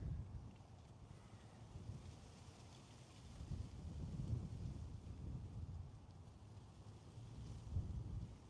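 Strong wind roars and buffets against the microphone in low, surging gusts while driving, rising and falling without a break.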